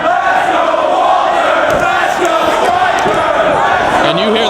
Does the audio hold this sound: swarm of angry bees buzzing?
no